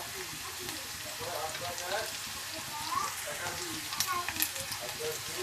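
Garlic and spices fry in a pan with a soft, crackling sizzle as a utensil stirs them in faint scrapes and taps, and a voice speaks quietly over the cooking.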